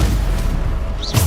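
A Bombarda blasting spell going off in Hogwarts Legacy: a brief, loud, booming explosion filling the whole moment, close and heavy.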